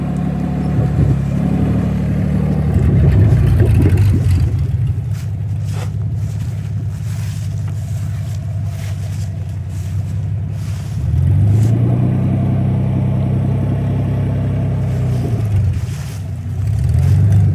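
The engine of a 1946 Willys CJ2A Jeep drives onto a trailer with a loud, close rumble that swells with revs early on and again in the second half, then settles back to a steady idle.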